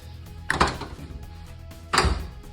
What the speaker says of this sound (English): Got the door shutting good.